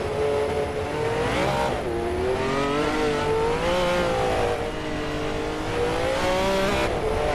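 Race cars roar together at the start of a race, several engines revving and shifting pitch continuously at close range, loud and dense with no pauses.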